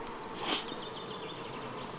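A steady, close insect buzz with a brief louder swell near the start, like bees humming busily around a hive.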